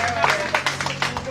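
A church congregation applauding, with uneven bursts of clapping and a voice speaking over the top.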